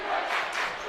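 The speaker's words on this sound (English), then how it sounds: "Crowd getting into it." A high school basketball crowd, with the student section close by, roars in a dense, loud, continuous burst of cheering.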